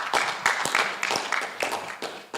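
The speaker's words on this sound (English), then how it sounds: "Let's give a proper clap for David." Conference audience applauding a paper presenter at an international research conference, a dense burst of close hand claps with irregular rhythm, loud throughout and free of speech.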